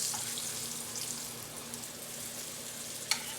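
Food fries in a ceramic pan with a steady, close hiss and crackle throughout, plus one faint clink near the end.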